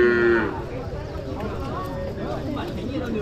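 A single cow moos briefly at a busy outdoor livestock market, a short tonal call at the start, followed by crowd chatter and general market noise.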